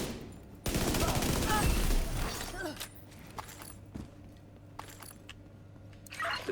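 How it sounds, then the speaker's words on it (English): Cannon rounds go off in a loud, dense burst of rapid blasts lasting under two seconds, followed by scattered faint clatter and quieter background noise. "Cannon rounds fired."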